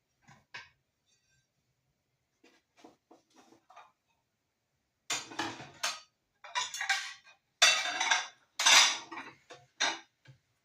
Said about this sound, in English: Let me make me a cup of coffee first.